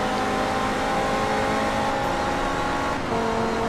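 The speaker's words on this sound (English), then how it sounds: "See if I can slipstream past the NSX here" A race car engine drones loud and sustained while slipstreaming behind an NSX at Suzuka in the racing game Forza Motorsport 2, holding a high steady pitch that dips briefly near the end.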